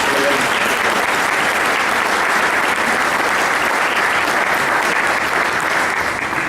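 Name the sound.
round of applause at a birthday celebration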